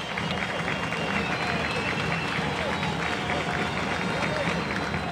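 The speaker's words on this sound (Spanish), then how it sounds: "especialmente pedir un aplauso para todos" Dense, continuous applause from a crowd at the inauguration of a clinic in Neuquén, loud and unbroken with no clear gaps between claps.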